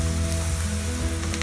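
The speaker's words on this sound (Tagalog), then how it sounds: "Mag-igisa na tayo." Medium onions sauté in a hot pan, giving a steady, dense sizzle that stays close and even throughout.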